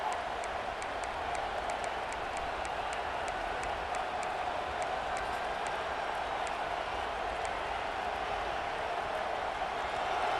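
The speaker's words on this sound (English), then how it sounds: "this crowd imploring its defense to stand firm" A football stadium crowd roars steadily for its defense late in the game, a dense, continuous wash of cheering and noise that stays level from start to finish.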